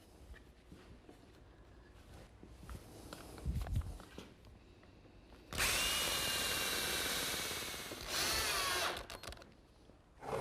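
Power drill driving 1 1/4 inch screws into glued wooden lap joints, a few light handling knocks and footsteps, then a loud sustained whirring burst that briefly dips and winds up again before stopping.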